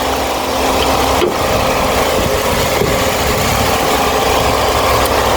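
Suzuki Ertiga 2012 engine idling with the hood open, a steady close rumble with a faint hum throughout and a couple of brief clicks.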